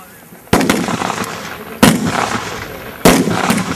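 Three loud, sharp service rifle shots on a military firing range about a second and a half apart, each followed by a ringing echo that fades into the open air.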